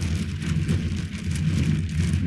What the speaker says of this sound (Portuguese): Viram chuva de água.